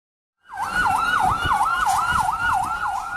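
A fire engine's wailing siren sweeps up and down in steady repeated cycles, loud and close, over a low traffic rumble after a brief silent start, as it speeds toward a hotel fire in Bandung.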